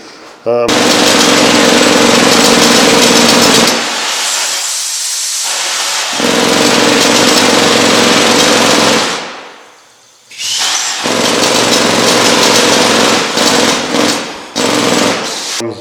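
A museum-restored rock drill of the type used in mines and road construction runs loud and close, a harsh continuous pneumatic hammering and hiss that cuts out twice briefly before restarting.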